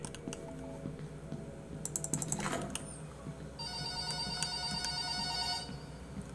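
A telephone rings in a dim corridor of the Korean horror video game White Day 2. Keyboard tapping comes first, then bursts of repeated ringing, quiet and a little distant, with no talk over them.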